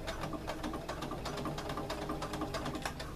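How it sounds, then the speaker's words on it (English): A sewing machine stitches fabric and elastic for ruffled leggings, a rapid rhythmic mechanical chatter of the needle running continuously with slight bursts and pauses in speed, close and steady throughout. "I'm going to sew that down, and I'm going to sew this down"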